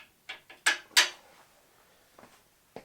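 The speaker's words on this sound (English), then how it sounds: "Now we're supposed to install these longer bolts and the nylon nuts." Bolts and nylon lock nuts being fitted to the sway bar of a Jeep TJ during a Currie Antirock install, giving a handful of short metallic clinks and clicks, close and clear, in a quick cluster and then a few faint ones.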